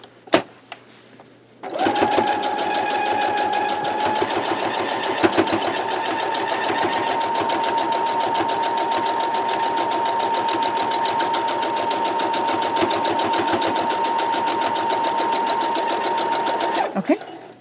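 A sewing machine stitches in the ditch along a quilt block's seams, running in one long steady burst of rapid needle clatter with a constant motor whine, close and loud, starting abruptly and stopping near the end.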